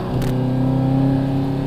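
An Audi R8 with a V8 engine revs close by, its exhaust giving a steady, loud, throaty drone that holds for under two seconds with no voices.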